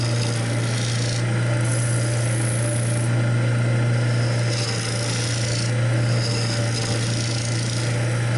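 A woodturning gouge cuts a bowl spinning on a lathe, giving a continuous close rasping, scraping hiss over the steady low hum of the lathe motor, with slight changes in intensity as shavings come off and no talk.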